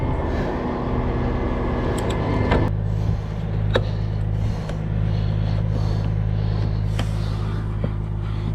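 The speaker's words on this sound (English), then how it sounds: "We'll pull it in and push it back out some" A Mercedes Sprinter motorhome is winched onto a Jerr-Dan tow truck with bus bars, a loud continuous machinery drone and mechanical hum with scattered clanks and metallic clicks throughout, no voices.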